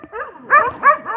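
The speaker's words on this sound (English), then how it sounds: "you are aggravating the dogs" Several dogs on a homestead barking in quick repeated bursts, fairly close and loud, with yelping, whiny tones between the barks.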